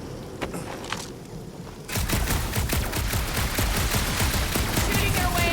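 Rapid, continuous gunfire erupts in the Guardians of the Galaxy video game, a dense burst of shots that starts abruptly and keeps hammering loudly and close for several seconds after a few scattered earlier pops.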